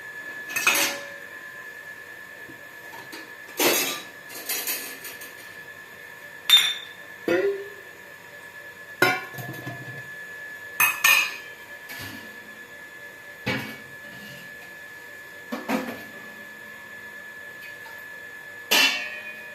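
Chickpea masala vada batter being mixed by hand in a bowl, heard as sparse, close clinks and knocks a few seconds apart, with quiet gaps between them.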